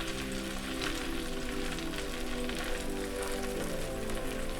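Egg and bread fry on a hot griddle (tawa) over medium flame, giving a steady, close, rain-like sizzling hiss with a faint hum underneath.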